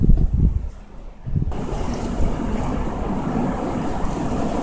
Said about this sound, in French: Il vient d'y avoir une rafale assez impressionnante.